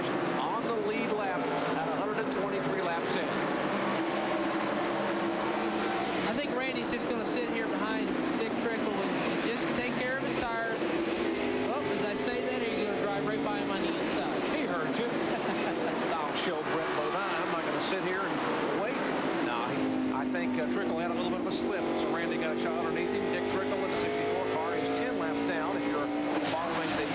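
NASCAR Busch Grand National stock cars race around Indianapolis Raceway Park in 1997, their engines a steady, roaring drone that swells and fades as the field passes, running continuously beneath a commentator's voice.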